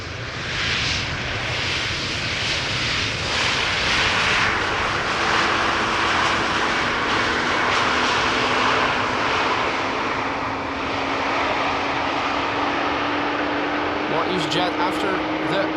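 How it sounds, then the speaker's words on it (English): A jet airliner arriving at Amsterdam Schiphol Airport makes a loud, sustained engine roar with a steady whine building through the pass, while someone talks over it. "the next airplane."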